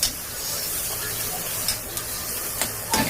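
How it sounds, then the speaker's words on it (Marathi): Ground sambar masala paste roasting and frying in a pan, a soft continuous sizzle with a few brief scraping stirs, close and quiet. "आता ह्याला भाजून घेऊया मस्त फ्राय करा"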